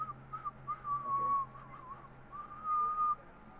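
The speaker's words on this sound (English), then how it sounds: "I hear someone whistling." A person whistles a thin, wandering tune in a few short phrases in the video game Dishonored: Death of the Outsider, with a low steady hum underneath.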